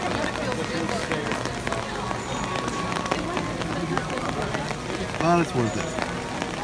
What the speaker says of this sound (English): And now it's raining quite a bit harder.